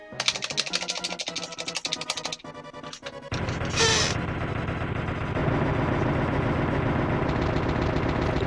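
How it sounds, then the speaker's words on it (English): Loud bursts of video-game explosions and gunfire-like blasts from the Nintendo 64 game Doraemon 64 after a mini boss fight, dense and continuous with a bright blast near the middle and steady roaring noise after. "Get ready for some Michael Bay explosions."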